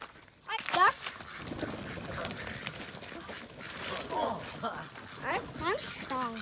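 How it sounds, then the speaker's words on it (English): Duck quacking at a farm, with several raspy calls rising and falling over loud excited shouting and talk from nearby people, the birds close and fairly prominent. "Duck."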